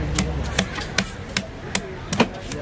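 Big Sankara fish being chopped at Kasimedu harbour, six evenly spaced sharp blade thwacks on a cutting block with a faint background murmur.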